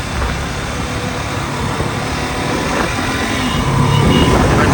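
A KTM RC 200 motorcycle engine revs while riding, its rough roar close and steady and swelling slightly louder toward the end, mixed with wind rush.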